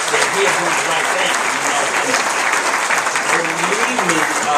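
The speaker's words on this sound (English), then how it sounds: "Give them one more round of applause" Audience applause at a motivational talk, a loud continuous wash of many people clapping with scattered voices and cheers mixed through it, holding steady the whole time.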